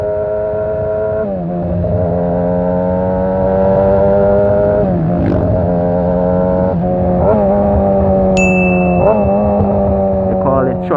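A motorcycle engine runs loud and close, its steady droning pitch dipping and rising several times as the clutch is released and gears are shifted.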